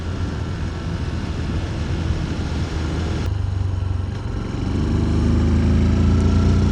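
A 2026 Honda C125 Super Cub engine pulls through the gears, a steady buzzing drone under wind rush that dips briefly at a shift, then rises louder as the revs climb.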